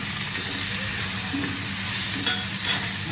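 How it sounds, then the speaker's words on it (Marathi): Tomatoes, onions and spices sauté in hot oil with a steady, close sizzle that runs throughout, broken by a few soft scrapes of stirring and no voices. "थोडेसे तेलावर परतून घेते."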